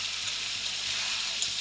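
Rohu fish sizzling in hot oil with cumin powder as it is sautéed, a steady dense frying hiss, close and continuous with no voices.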